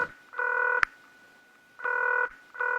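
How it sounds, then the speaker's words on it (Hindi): Phone keypad tones beeping as a number is dialed: a few short, clean electronic tone bursts with a sharp click, close and fairly quiet. "मैं उन्हें जरा फोन करता हूँ"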